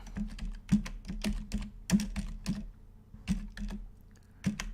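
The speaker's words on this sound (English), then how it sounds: "You see what I'm typing, right?" Typing on a computer keyboard, a steady run of close, crisp key clicks in irregular bursts with a few heavier keystrokes standing out, no voices.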